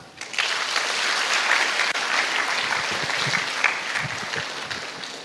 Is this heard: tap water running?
no